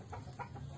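A brief, soft clucking from a young chicken with bumblefoot nearby, a couple of short low calls with no other sounds.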